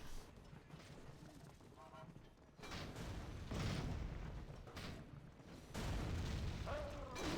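Heavy booming TNT blasts from a Panzar tournament skirmish arrive in a few broad, rumbling bursts over continuous battle noise, with a voice faintly present in the background.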